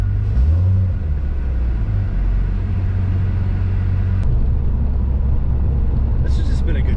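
Steady rumble of a car engine from inside the vehicle, droning loudly and evenly, with a brief sharp click partway through.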